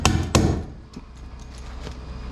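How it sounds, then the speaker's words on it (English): A hammer stapler tacking folded wrapping paper onto a PlayStation 5 box, two sharp close strikes in quick succession followed by faint rustling and small handling taps. "grab your hammer stapler, fold over the one side,"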